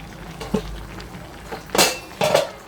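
Spinach and hilsa fish head being stirred in a cooking pot, a few scattered metallic scrapes and clinks of a utensil against the pot with quiet gaps between them, no talking.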